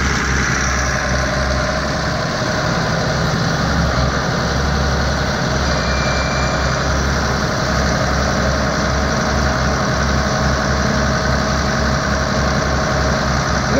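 An old Case 2290 tractor engine idles steadily up close with a deep, throbbing low rumble and a slight rhythmic pulse while unloading hay, with no voices over it.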